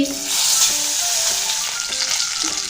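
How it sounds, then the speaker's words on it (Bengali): Large koi fish (climbing perch) frying in hot mustard oil, giving a steady, close, bright sizzle that stays loud throughout with faint periodic popping underneath. "মাছটা ভাজার জন্য আমি সর্ষের তেল দিয়ে দিচ্ছি তেলটা গরম হয়ে গিয়েছে এখানে আছে বড় সাইজের বড় সাইজের কই মাছ দিয়ে দিচ্ছি"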